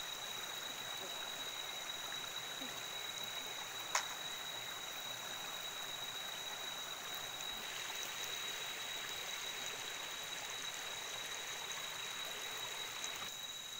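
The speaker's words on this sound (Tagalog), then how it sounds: "Dito siya sumasalok ng tubig na kanyang pang-igib." A mountain stream where water is scooped for watering crops, a steady even rush and trickle of water throughout, with one brief faint click partway through and a thin high tone over it.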